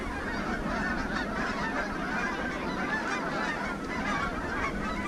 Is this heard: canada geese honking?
yes